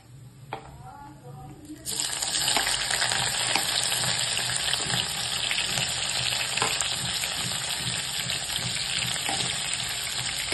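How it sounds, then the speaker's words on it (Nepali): Chicken starts sizzling loudly in a hot pan after a brief quieter start, a steady crackling hiss that continues throughout. "चिकन चाहिँ यतिको फ्राई भइसकेको छ"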